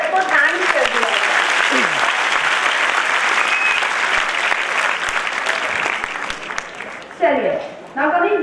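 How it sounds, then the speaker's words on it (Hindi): An audience at the Commerce Buzz 2014 awards event breaks into strong, sustained applause to thank a speaker, a thick wash of clapping with voices talking over it at the start and again at the end as it dies down. "एक बार जरा जोरदार तालियों से सर को थैंक कर दिया।"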